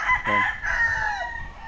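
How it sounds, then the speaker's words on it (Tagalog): Chickens in a small backyard farm in San Agustin, Ibaan, Batangas; a rooster crows once, close and fairly loud, its drawn-out call trailing off over soft background noise. "Kaya itong mga manok, ayan."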